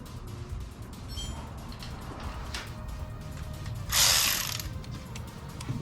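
A ratchet tightens the intake clamp on a 2021 Jeep JL cold air intake, giving a steady rapid clicking close by, with a louder burst of clicks near the end.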